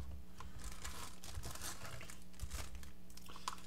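Textured cardboard packaging box for a NEDFOSS Damascus pocket knife handled up close, with soft continuous crinkling, scraping and light tapping taps, quiet and without speech.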